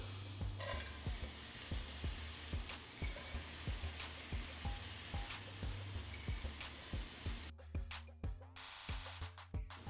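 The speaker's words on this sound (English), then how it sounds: "throw in 3 cups of mixed veggies onto our skillet" Three cups of mixed vegetables sizzle in a skillet on a stove, with a steady fry and regular stirring scrapes about every half second that grow louder near the end.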